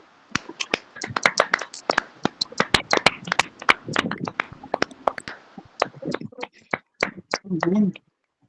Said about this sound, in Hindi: आइए हम इस वर्शिप के लिए एक जोरदार ताली लगाएं।